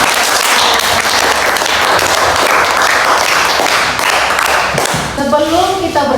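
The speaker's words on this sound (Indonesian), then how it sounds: "Kita kasih dulu tepuk tangan." A class of students applauds together in a school lesson, loud dense clapping that continues steadily, then tapers as a voice begins speaking at the close.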